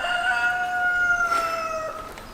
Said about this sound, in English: That damn rooster.